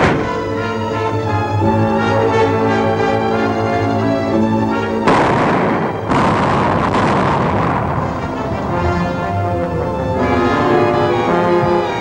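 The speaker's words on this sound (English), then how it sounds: "Nothing but a sound like a tremendous explosion." A tremendous explosion sound effect from an old radio serial, a loud sustained roar with a sudden burst partway through and rumbling turbulence continuing to the end, with no voices.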